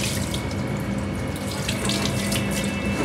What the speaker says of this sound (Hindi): और अब भाई ठंडे पानी से निलाते हैं